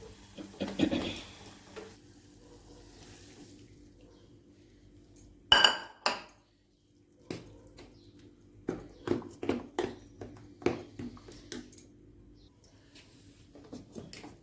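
Onions are stirred into paniyaram batter in a bowl, with intermittent close clinks and scrapes of a spoon against the bowl in short bursts separated by quiet pauses.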